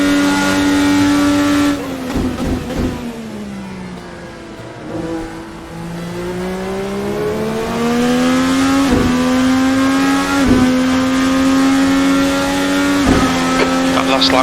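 A 2012 Indy Car engine in Virtual Racing Cars screams near its top speed in a loud, sustained high-revving drone with sharp gear-change dips, its pitch climbing and dropping across the lap while someone talks over it.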